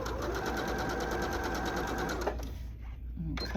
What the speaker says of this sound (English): So I'm going to put them together and sew them right up.